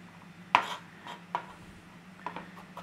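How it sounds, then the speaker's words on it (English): A knife chops garlic on a cutting board with a few sparse, quiet taps and one sharper knock, heard close against a low hum. "If you want minced garlic, mince it up."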